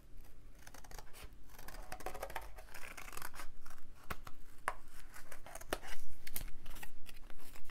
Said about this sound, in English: So I'll just cut it out.